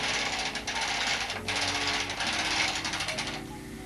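A Bond knitting machine carriage runs across the needle bed to knit a row, giving a loud, continuous mechanical rattle and whirring clatter that fades slightly near the end.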